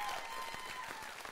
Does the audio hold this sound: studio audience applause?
yes